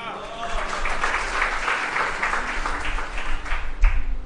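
Audience at a spiritual discourse gathering breaks into applause, a sustained wash of clapping at moderate loudness lasting a few seconds, with a voice speaking over it.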